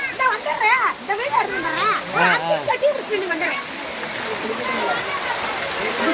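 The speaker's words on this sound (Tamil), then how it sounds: "இதான் புளி அருவி" Water rushes and splashes at the Puli Aruvi waterfall as a steady, hissing roar, with people talking loudly over it at first before the falling water carries on alone.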